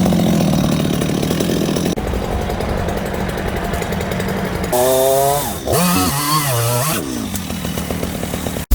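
Engine chainsaw running loud and close, a steady buzzing drone that rises and falls as the throttle is worked, with a revving, wavering stretch midway before settling back to a constant roar.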